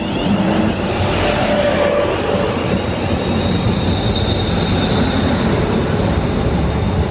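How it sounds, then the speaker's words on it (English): A stopping train pulls into platform 4 at a North London station: a steady, loud rolling rumble with a thin high squeal running through the second half, no voices. "now we've got the stopper coming into platform 4."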